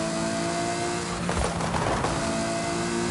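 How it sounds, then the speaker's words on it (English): A car in Forza Horizon 5 at full throttle on a small racetrack, a steady loud engine drone with a brief tire-squeal swell through the middle, no talk. "Look at the brakes are amazing. Look how it turns. Full throttle."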